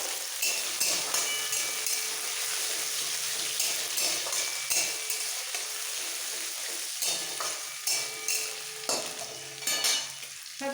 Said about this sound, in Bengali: এক চামচ আদা এরকম চপ করে নিয়েছি দুটো কাঁচা লঙ্কা কুচি একটু ভেজে নেব সাথে